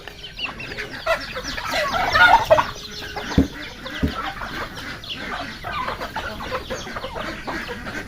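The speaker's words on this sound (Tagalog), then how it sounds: "pakain natin sa mga makulit na manok." Several chickens clucking and fussing nearby while they peck at scattered leftover scraps, with soft irregular calls and a few sharper squawks over faint rustling.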